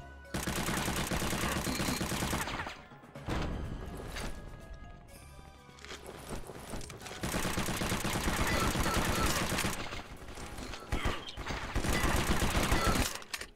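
Enemy gunfire rattles almost nonstop in War Brokers on the Dead End City map: dense automatic bursts and overlapping shots, loud and close, with brief lulls between volleys.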